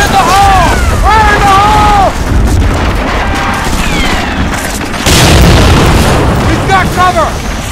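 Heavy explosions from the World War II shooter Medal of Honor Frontline: deep booms hit twice over a battle din, with shouting voices and whistling noises around them.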